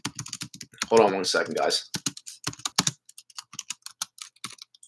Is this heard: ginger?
no